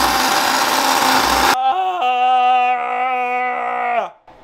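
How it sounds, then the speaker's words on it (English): A kitchen blender whirs loudly while blending steak and mushroom soup, with a rough, noisy start followed by a steady, rising motor whine that cuts off near the end. "So now we're gonna blend it."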